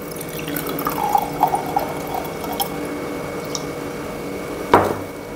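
Calcium hydroxide solution is poured into a container, giving light liquid trickles and drips with a sharper splash or clink near the end, close and fairly quiet with no talking.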